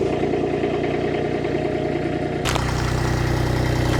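A skid steer fitted with a new auger attachment runs nearby, a steady loud engine drone that abruptly shifts to a harsher, louder roar partway through, with no speech.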